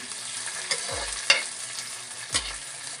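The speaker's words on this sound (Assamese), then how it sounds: "এতিয়া এই পিঁয়াজখিনি অলপ ৰঙচুৱা হোৱালৈকে ভাজিব লাগিব।" Onions frying in oil until lightly browned for a village-style chicken gravy: a steady hiss with a few sharp scraping stirs of a spoon in the pan, no voices.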